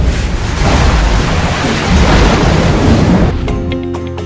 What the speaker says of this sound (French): nous sommes dans une partie de la galerie et l'eau passe littéralement ici